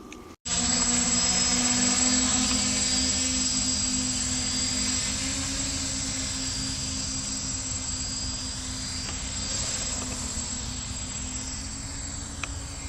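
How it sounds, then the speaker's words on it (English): Autonomous quadcopter drone flying in a continuous loud rotor drone with a steady tonal whine, starting abruptly after a brief quiet moment and holding near and strong throughout. "But that is our quadcopter."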